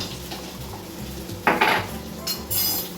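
A metal spoon stirs and scrapes spices around a cooking pan. Low sizzling runs underneath, with a few close, clattering knocks against the pan near the end.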